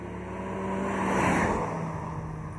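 A 2018 Volkswagen Golf GTI Performance with a 2-liter four-cylinder engine is on the move, its steady road drone swelling in a smooth rise and fall like a passing swoosh.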